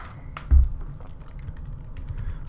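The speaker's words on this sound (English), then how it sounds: "That's why you hear the keyboard." Close typing on a computer keyboard, scattered light key clicks with one louder thump early, fairly faint in a quiet room.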